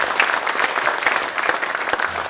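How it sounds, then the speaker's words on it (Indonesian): An audience applauds the winners of the Dewan Kesenian Jakarta 2015 poetry book manuscript competition, a steady burst of many hands clapping in a hall, close and lively throughout. "Dan kita beri tepuk tangan sekali lagi yang meriah kepada para pemenang."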